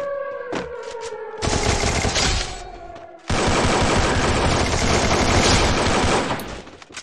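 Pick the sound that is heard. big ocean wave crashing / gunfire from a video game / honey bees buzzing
gunfire from a video game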